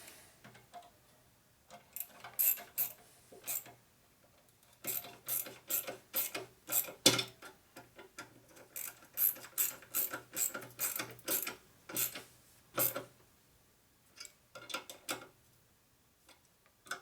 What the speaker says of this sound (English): Come back and tighten up our hose clamps.